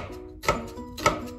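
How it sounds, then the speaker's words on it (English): A knife slices finely through an onion for a low-carb courgette carbonara, giving two crisp, close chopping thuds about half a second apart on a board, with a quiet background between them. "We're going to cut or slice the onion"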